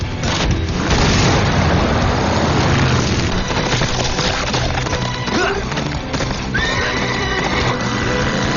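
War horses neigh and whinny in a loud, dense TV action sound-effect mix, with booming crashes, splintering impacts and galloping hooves, and several sharp rising whinnies near the end.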